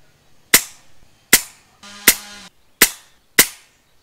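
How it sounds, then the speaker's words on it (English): FX Impact M3 air rifle firing five sharp, close shots spaced about a second apart, each a crisp crack with a quick decay, with a brief mechanical hum between two of them. "I'll take a couple of shots before going for the groups"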